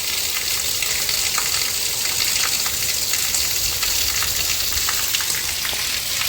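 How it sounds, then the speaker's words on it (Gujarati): Steady rain pours over a village farm field, a dense, even hiss with scattered patters of drops running unbroken throughout, with no voices. "જો વરસાદ આવે આસમાન જો"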